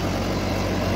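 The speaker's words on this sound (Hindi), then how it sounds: "Farm track 6055 extra ट्रोक tractor super max. और देखिए भाइयों रोटावेटर पे चल रहा है" Farmtrac 6055 tractor engine running steadily while driving a rotavator, a continuous loud low rumble with broadband mechanical roar and no pauses.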